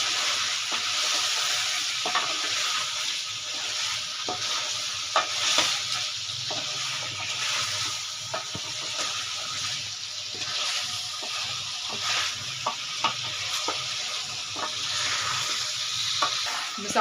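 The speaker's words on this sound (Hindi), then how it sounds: "अब हम इसे अच्छे से मिक्स करेंगे।" Spices and cumin fry in a pot for chicken dum biryani while a spoon stirs them, giving a steady close sizzle broken by repeated scraping and clinking strokes against the pot, with no voice.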